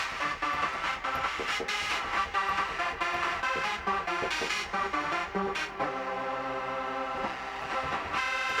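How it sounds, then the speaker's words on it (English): A manipulated Reese synth, the classic rave hoover voice used as bass or lead in techno, with dense layered hits and rhythmic pulses, then a sustained buzzy tone in the last few seconds; loud throughout, no talking. "It's a very classic rave sound that can either do duty as a bass down low or as a lead up high."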